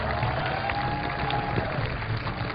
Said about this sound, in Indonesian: sekali lagi tepuk tangan untuk Richard Rin dan juga Desi Bowman